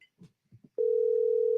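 Phone dial tone while calling someone back: after a few brief soft noises, a steady loud continuous tone starts and holds to the end, no talk over it.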